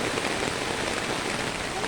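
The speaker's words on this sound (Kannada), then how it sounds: "ನಾವಿನ್ನು ಮಳೆ ಕಡಿಮೆ ಆಗ್ತಾ ಇದೆ ಅಂತ ಅಂದ್ಕೊಂಡ್ರೆ ಇದು ಮಳೆ ಜೋರಾಗ್ತಾ ಇದೆ." Heavy rain pours steadily onto a flooded plantation beside an overflowing stream, a dense continuous hiss of drops on surfaces, loud and close, without pause and with no talk.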